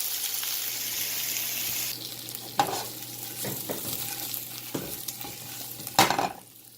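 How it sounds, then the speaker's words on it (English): Kale being stirred into garlic and radishes in a hot pan, a soft frying sizzle under scraping spoon strokes and a few sharp clacks against the pan, fading quieter at the end. "now we're adding the kale into the garlic and the radishes to mix them in"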